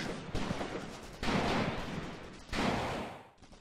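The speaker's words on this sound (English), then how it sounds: "the Russians do have some mortar teams firing upon us" Russian mortar teams and gunfire in the war game Graviteam Tactics, set in a forest battle near Shilovo: three heavy booming blasts in quick succession, each followed by a rumbling, crackling roll of distant fire.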